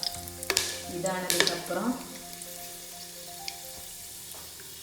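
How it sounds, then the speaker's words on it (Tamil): Cinnamon, cloves and cardamom hit hot oil with a burst of crackling sizzle and spattering pops early on, then settle into a softer steady fry; a voice speaks briefly near the start. "இதில் வந்து நான் வச்சுக்க பட்டை, கிராம்பு, ஏலக்காய் எல்லாமே ஆட் பண்ணுறேன்."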